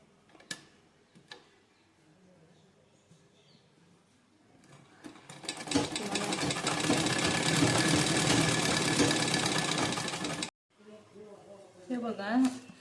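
Domestic sewing machine stitching a folded hem on a blouse sleeve, a steady rapid whirring chatter for about five seconds, with a voice talking briefly before and after.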